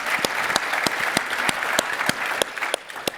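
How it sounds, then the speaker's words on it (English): A conference keynote audience claps in a short, steady burst of applause, close and fairly dense, with sharp individual claps standing out. "let's give Ali another round of applause for a great job"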